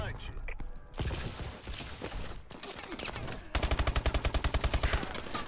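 Video game gunfire in a co-op shooter match: a rapid burst of automatic shots rings out loud near the end, after a stretch of mixed clatter and scattered shots.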